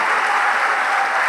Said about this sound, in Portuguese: Aplauda, aplauda, aplauda